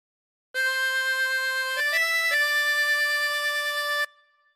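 A harmonica plays a phrase, a few clean sustained reedy notes stepping up in pitch, loud and close with no talking, then a brief fading tail.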